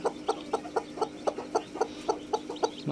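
A hen with newly hatched chicks clucks in a steady, evenly spaced series of short, close calls, about four per second, with no voices.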